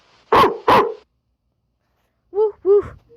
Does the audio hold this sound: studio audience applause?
no